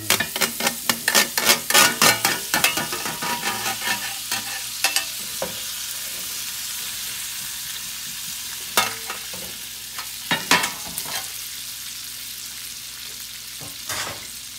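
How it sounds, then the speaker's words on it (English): Onions hit a hot pan and sizzle as a utensil stirs and scrapes them, with a quick run of clattering strokes at first, then a steady quieter frying hiss and occasional further stirs. "And the onions, I'm gonna throw them in here."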